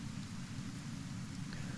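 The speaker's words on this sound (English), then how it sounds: "it's acid rain 24/7, so only hivers or skeletons will be able to survive there without any issue" Steady acid rain in the Deadlands of the video game Kenshi, a soft, even downpour hissing continuously at low volume with no voices.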